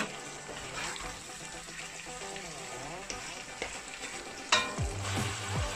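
Goat ribs being stirred with spices in a hot pan, a steady sizzle of frying with scraping stir strokes and a sharper clatter near the end, close and continuous with no talk.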